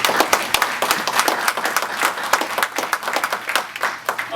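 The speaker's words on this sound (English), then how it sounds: "So a round of applause for our sponsors." Brief applause from a conference audience, scattered close hand claps in an uneven patter that swells and dips over a few seconds, with no speech over it.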